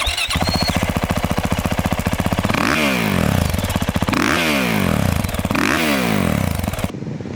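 A 2026 Yamaha YZ450F dirt bike engine runs hard and loud throughout, revving up and down in three rising sweeps, with a raspy, buzzing exhaust close by.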